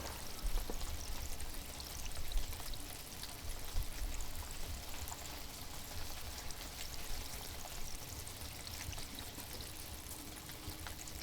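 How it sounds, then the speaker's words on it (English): Continuous soft fizzing and bubbling of water, a dense hissing texture with faint pops, steady and fairly quiet throughout. "As soon as it touches the water, the surface starts to fizz."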